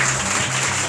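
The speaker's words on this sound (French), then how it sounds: "Vous pouvez applaudir Jésus très très fort, pasteur" A church congregation claps loudly and steadily for Jesus in a dense, unbroken burst of applause, with no voices over it.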